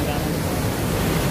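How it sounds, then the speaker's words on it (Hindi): Water surges through an opened canal gate at a hydroelectric power plant in a valley, a loud, continuous broadband roar with no breaks. "गेट खोलने पर पानी इधर आ रहा है। अभी और स्पीड हो चुका है"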